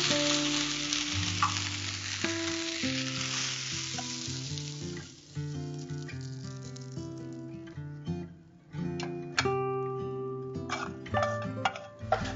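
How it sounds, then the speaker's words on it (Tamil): Whole spices such as bay leaf, cloves, cinnamon and pepper sizzle in hot ghee for Kashmiri pulao, with a soft, continuous crackle and the occasional stir or clink of a utensil heard close by. "நெய் சூடானதும் பிரியாணி இலை கிராம்பு பட்டை அதெல்லாம் சேர்த்தாங்க"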